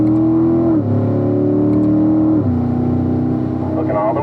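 A Corvette accelerates hard on a race track, its engine droning loudly and dropping in pitch twice as it shifts up through the gears, heard from inside the car.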